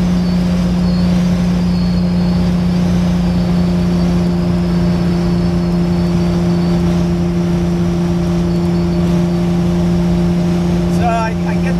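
A 1976 pace car on a race track, its engine holding a steady, loud drone with strong low hum close to the microphone, with little change in pitch and talk faintly present.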